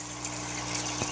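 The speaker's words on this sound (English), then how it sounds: "I'm actually doing a water change on the tank right now. And you can see the water is coming in very slowly." Water slowly trickling into a blue velvet shrimp aquarium during a water change, a steady soft flow with a faint pump-like hum underneath and a brief splashy burst near the end.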